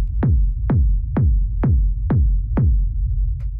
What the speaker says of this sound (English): So you can hear pretty straightforward techno rumble kick.